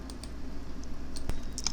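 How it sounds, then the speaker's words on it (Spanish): Keys clatter on a computer keyboard as account details are filled in on a website sign-up form, a quick run of close, crisp clicks over a faint steady hum. "voy a completar aquí mis datos"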